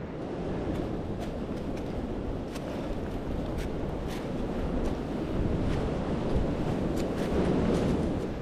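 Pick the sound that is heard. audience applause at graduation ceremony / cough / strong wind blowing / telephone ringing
strong wind blowing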